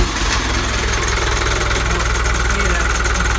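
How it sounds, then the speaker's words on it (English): A Hino 135HP diesel engine starting cold and settling into a loud, steady knocking idle with constant mechanical vibration close by. "just turn the key and away they go. That's the way these engines start."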